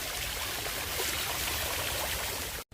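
Rushing water from a waterfall at a temple site, a dense, steady roar heard close and fairly loud, cutting off abruptly near the end.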